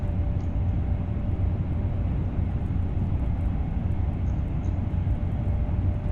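A train passing in the Train Sim World 2 video game at Grand Central, a constant, dense low rumble with steady engine drone and no variation, running alone without talk.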